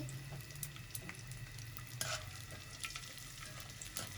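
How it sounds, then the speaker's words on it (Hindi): Edible gum (gond) fries a little at a time in hot ghee over a low flame, a faint, steady sizzle with soft scattered crackles and occasional stirring taps throughout. "ये थोड़ी थोड़ी डाल के करूँगी, एकदम नहीं डाल के फ्राई करेंगे।"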